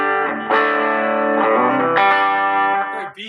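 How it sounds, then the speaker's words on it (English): An electric guitar on a Floyd Rose-equipped WestCreek Cerberus plays through its bridge pickup with a thick distorted tone, a few sustained chords and notes ringing out up close, loud and without talk. "So bridge pickup sounds like this."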